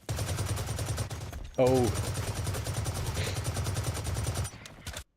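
Rapid bursts of gunfire from a shooter video game, a dense continuous rattle of shots running through nearly the whole stretch, with a brief exclamation from a player partway through.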